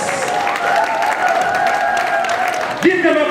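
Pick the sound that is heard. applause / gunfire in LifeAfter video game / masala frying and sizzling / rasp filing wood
applause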